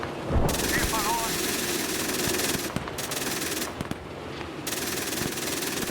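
Marder A1 infantry fighting vehicle autocannon firing in the PC game Gunner HEAT PC: loud, sustained rapid bursts with dense battlefield noise, a few brief pauses, close and continuous throughout.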